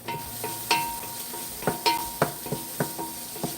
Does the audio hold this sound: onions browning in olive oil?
yes